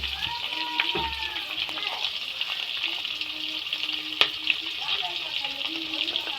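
Sliced onions fry in hot oil in a pan for a tomato and curry leaf pickle, a continuous bright sizzle with occasional stirring scrapes and clinks, partly under a voice.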